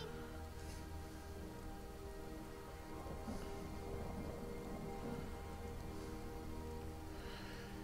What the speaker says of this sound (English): And there was my host Carl, enjoying the rain, apparently.